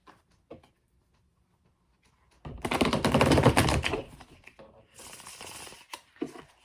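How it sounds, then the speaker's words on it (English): Tarot cards being shuffled and drawn: a few light taps, then a dense riffling burst of about two seconds, followed by a shorter flurry and scattered card snaps, close and fairly quiet. "let's go ahead and get 2 more tarot cards"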